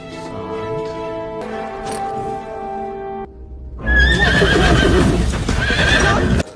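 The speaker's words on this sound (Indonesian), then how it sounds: "Alhasil seharian penuh Govind pun jatuh dari kuda yang membuat dia udah patah semangat." A horse in the film Azaad neighs and whinnies loudly, then heavy clip-clopping hooves and a louder burst of whinnying follow, with a music score running beneath and no one speaking.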